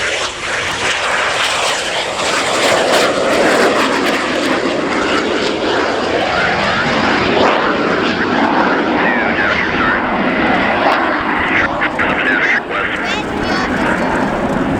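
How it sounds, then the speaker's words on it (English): An Austrian Air Force Saab 105OE jet trainer flies a display at the RIAT 2017 air show at Fairford, its loud sustained engine roar filling the air while an announcer talks over it. "And here it is rolling now from the Austrian Air Force, their contribution to the Riat 2017 flying programme, the Saab 105OE."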